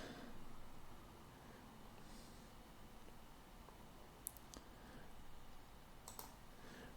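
A computer mouse clicks a couple of times, sharp and faint, over a quiet room hiss.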